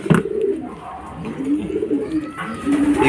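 Racing pigeons coo at a loft as birds arrive home from a club fun race, with soft repeated low coos and a few rustling flutters close by, and no voices.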